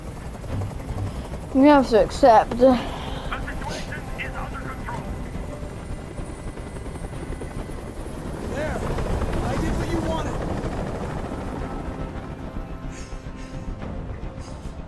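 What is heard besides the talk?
helicopter hovering, from video game Detroit: Become Human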